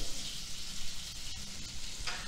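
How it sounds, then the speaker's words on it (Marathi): Black cumin (shahjeera) sizzles in hot butter and ghee for a Punjabi dal makhani, a steady, close hiss that stays even throughout with no voices. "आता ह्यामध्ये आपण शहाजिरा घालणार आहोत"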